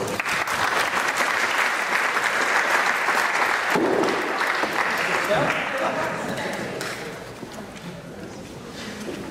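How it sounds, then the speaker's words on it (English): A lecture audience at an MIT teaching and learning conference applauds a speaker, sustained dense clapping that fades slightly toward the end, with faint voices mixed in. "Can you please give David a big round of applause?"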